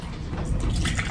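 A drink poured into a glass at a pub table, a steady liquid gurgle with a bubbly, splashing texture, close and fairly loud, heard alone without talk.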